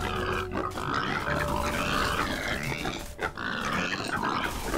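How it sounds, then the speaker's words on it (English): Pigs in a video game grunt and snort in repeated low, rough bursts, fairly loud and close, with short gaps between calls and no talk. "What are these guys? Pigs!"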